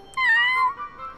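A small cartoon cat gives a single clear, drawn-out meow, close and alone, in a children's animated safety story.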